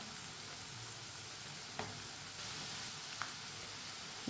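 Potato fries cook in hot oil, giving a soft, steady sizzle with a couple of brief clinks as they are turned.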